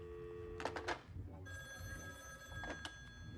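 A telephone bell rings in two short bursts, loud and close, with a steady electronic hum behind it and a faint chime lingering between rings.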